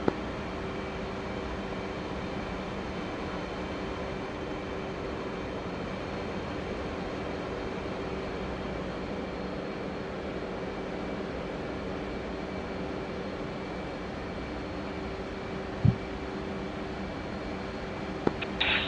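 Steady, even roar of an F/A-18C Hornet jet flying in the DCS flight simulator, a continuous engine drone with a faint tonal whine and a short click near the end.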